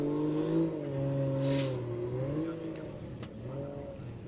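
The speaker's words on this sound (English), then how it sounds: "I can hear some cars moving around." Car engines hum and shift pitch, rising and falling as race cars move around a circuit nearby during a Pro 2 drift battle event, a steady mechanical drone with no voices.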